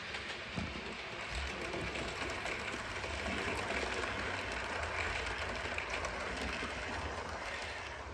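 A model railway train runs steadily around a layout, giving a continuous close rolling rumble and rattle of wheels on track with no breaks and no talking.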